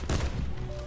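Gunfire in the video game Call of Duty Black Ops 4 during a sniper match: a couple of loud, booming shots close together near the start, then a fading rumbling tail.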